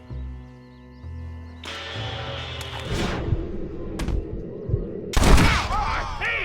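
Gunfire in the Western video game Red Dead Redemption: several loud, sharp shots over a tense game score, with a hard crack near the end.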